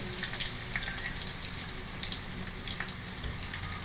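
Ginger garlic paste sautés in a pan for a mushroom gravy, giving a steady, close, dense sizzle with small crackles and pops throughout, no voices.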